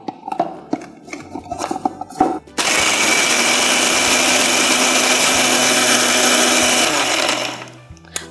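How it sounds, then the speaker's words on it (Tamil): A mixer grinder blitzes cooled roasted nuts into powder for a healthy ladoo, starting with a few short pulses, then a loud steady whir of about four seconds that winds down at the end. "இப்போ நம்ம வந்து நல்ல பவுடராக கிரைண்ட் பண்ணி எடுத்துக்கலாம்"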